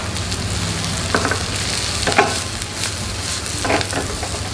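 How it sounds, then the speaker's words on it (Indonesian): Onion, ground candlenut and green chili sauté in a hot pan. A dense, steady sizzle runs throughout, with a few sharp scraping clinks from stirring over it. "Kita tumis lagi sampai benar-benar harum."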